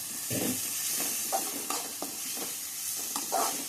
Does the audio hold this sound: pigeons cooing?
no